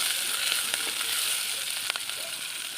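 Small shallots and green chillies sauté in a pan for a spicy blood fry, producing a bright, even sizzle close up, dotted with a few faint crackles and stirring clicks.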